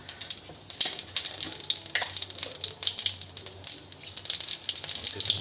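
Cumin seeds sizzle in hot mustard oil while a local chicken curry is being started, giving a steady crackling hiss with small spits and pops and some stirring, close up and with no talking.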